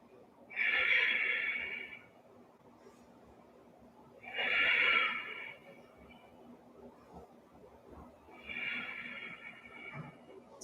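Three strong, forceful exhales during an ab workout, spaced a few seconds apart as breathy rushes of air, close and clear, with no talking.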